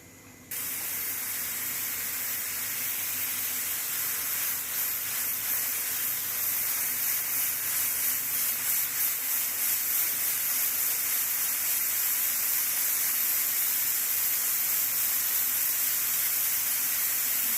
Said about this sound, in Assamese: এনেদৰে কুকাৰত দি হুইচেল মাৰি ল'ম।